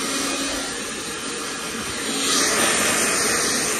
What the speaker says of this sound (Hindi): ड्रायर, हेयर ड्रायर है।